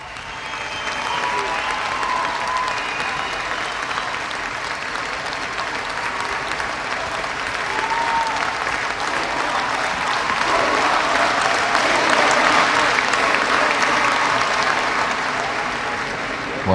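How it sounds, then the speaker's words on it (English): After Obama's speech in Egypt the audience gives a standing ovation. The large crowd keeps up loud, dense applause that swells toward the end, and a commentator talks over it. "a standing ovation there for that speech"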